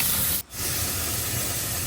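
Garlic sizzles in hot oil in a pan after pork has been sautéed, a loud continuous hiss with a brief dip in the middle.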